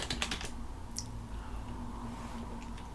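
Rapid clicks of a computer keyboard as a terminal command is typed on Kubuntu, a quick cluster of keystrokes at the start and a few scattered taps after, over a steady low hum.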